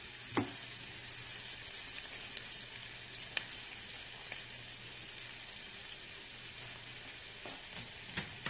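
Onions sauté in a pan while cabbage and turkey sausage are being cooked, giving a steady, quiet sizzle and frying hiss with a few sharp pops and light stirring clicks. No voices are heard.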